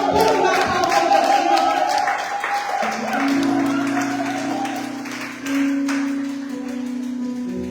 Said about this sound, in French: Je ne sais pas pourquoi tu as arrêté d'acclamer.